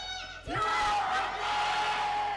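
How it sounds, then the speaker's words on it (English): A loud crowd roars and whoops at an Overwatch esports grand final between T1 and Crazy Raccoons, swelling suddenly and holding a sustained cheer with some music underneath. "Oh, the crowd is up for this one."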